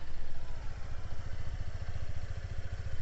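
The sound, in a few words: motor scooter engine running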